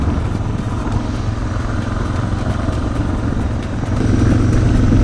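A motor vehicle engine runs steadily and loudly as it pulls away from a free parking spot in a scenic area of Mexico near waterfalls, a continuous mid-range drone that swells slightly toward the end.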